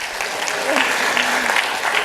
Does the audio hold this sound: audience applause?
yes